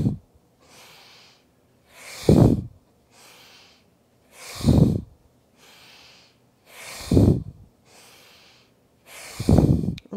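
Fast, rhythmic yoga breathing, with sharp forceful exhales every couple of seconds alternating with softer inhales, close and clear, with no talking over it.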